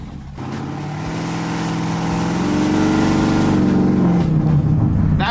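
A supercharged, slammed 1965 Ford Mustang accelerates at half throttle, its engine note rising steadily and growing louder over several seconds with a faint blower surge, heard close and alone without talk.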